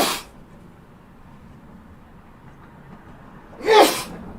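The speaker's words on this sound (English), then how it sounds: "I had to sneeze." Two sharp sneezes, one at the very start and a louder one near the end, separated by near silence with faint room noise.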